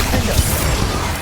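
The Confringo spell in Hogwarts Legacy goes off as a short, loud burst of blasting noise, a dense crash filling the moment with no talking.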